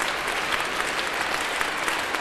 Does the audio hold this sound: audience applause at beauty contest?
yes